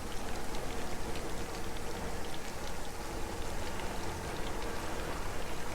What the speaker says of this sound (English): There's rain falling.